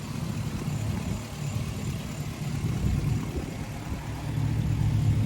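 A Hummer H3T truck with 141,000 miles idles in a steady, low, even rumble that stays smooth and quiet throughout, with no other sounds.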